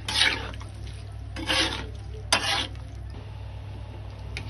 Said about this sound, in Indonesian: Aduk semuanya,